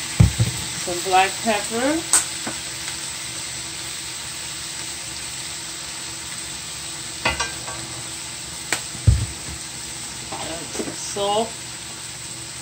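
Garlic sizzles in a frying pan with sausage, a soft steady hiss under intermittent scraping and stirring, while a person talks briefly over it.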